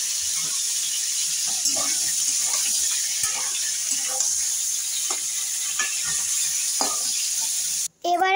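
Slices of pointed gourd fry in hot oil with a continuous sputtering sizzle and scattered sharp crackles and pops. The sound cuts out briefly near the end.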